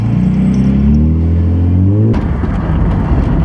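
A Lexus engine revs up with rising pitch, then shifts into a rough, rumbling idle with some clatter, close and loud.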